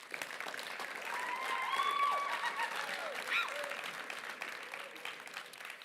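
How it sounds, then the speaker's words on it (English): An audience applauds at a Rolleston College awards ceremony with a soft, continuous wash of clapping that swells in the middle and tapers slightly, with a few faint whistles mixed in. "So can we just give a big round of applause for Miss Flynn?"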